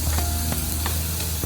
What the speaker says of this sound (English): the meat is already starting to cook